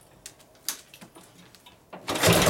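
A rebuilt 1965 Harley-Davidson FLH panhead, 74 cubic inches, with a hard-hammering lifter, idles low and uneven in a workshop with irregular mechanical ticks and pulses, then swells into a louder rush at the end.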